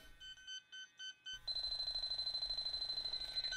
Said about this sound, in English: The Robinair LD7 does find the 410A leak.